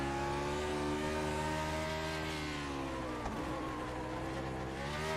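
Onboard engine of a vintage Grand Prix Legends race car at Bathurst in iRacing, a loud sustained high-revving drone with rich harmonics and a brief dip as the car shifts, heard alone.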